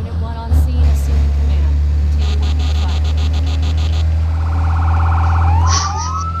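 Fire engine sirens in the Firefighting Simulator video game, a steady loud wail with a repeating pulsing tone over a constant engine drone, with a rising whoop near the end.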